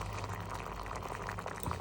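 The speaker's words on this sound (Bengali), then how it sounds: "এটাকে আমি কেটে ভালো করে ধুয়ে জল দিয়ে একটু সিদ্ধ করে নেব" Cut, washed sweet potatoes simmer in a pot of water, giving a steady, close bubbling and hissing boil with no talking.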